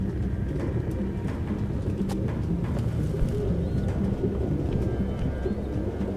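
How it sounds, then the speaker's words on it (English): Pigeons cooing in the video game Detroit, many birds in a dense, continuous murmur of low coos close by, with steady ambient noise and occasional flutters. "No human could live with all these fucking pigeons."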